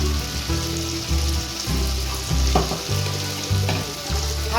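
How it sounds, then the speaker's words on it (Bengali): Cumin paste, turmeric and red chili powder fry hard in a pan with salt, for a fish-head and amaranth greens dish, giving a loud, steady sizzle broken by periodic scraping stirs, close and alone with no voices. "এবার এটাকে কষিয়ে দিচ্ছি"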